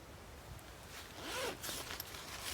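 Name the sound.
zipper on bushcraft kit pouch being opened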